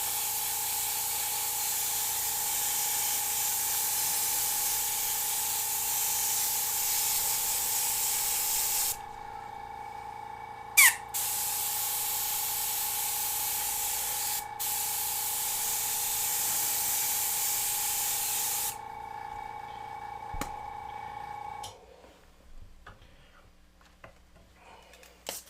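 An airbrush sprays paint onto a tiki panel in steady, loud hissing bursts, broken by a few short pauses and brief clicks, then trailing off into quiet near the end.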